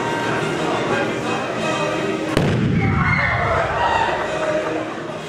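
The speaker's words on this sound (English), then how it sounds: "Eventually ending in a show of explosions to the tune of the classic 1812 overture." Fireworks bursting at a show set to music, a dense wash of sound with a sharp boom partway through followed by crackling and rumbling explosions.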